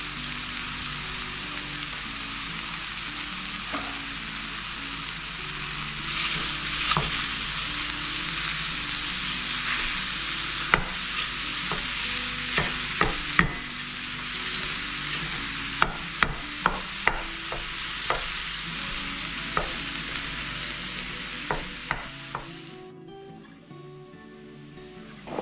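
A pound of sausage frying in a pan with a pepper, onion and mushroom mixture: a constant, even sizzle with scattered sharp pops and spatula clicks that cluster in the middle, the hiss easing toward the end.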